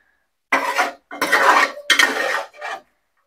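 Chicken curry is stirred in a pot in four separate bursts, each a close scraping and clatter of a utensil against the metal, with short silences between them and no voices.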